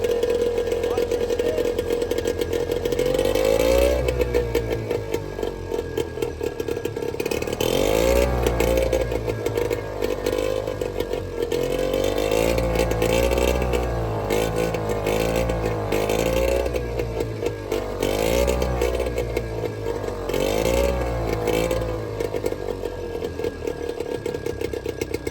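An old, tiny British Seagull outboard engine running after decades in a garage, a loud, rough, harsh single-cylinder clatter that holds steady with revving swells, close by, and people talk over it at times.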